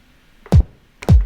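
Two punchy, booming kick drum hits about half a second apart, each with a quick scratchy smear, loud and close with silence between.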